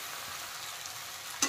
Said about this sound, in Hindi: तो अभी मीडियम फ्लेम में हमें चलाते हुए तो फ्राई करना है।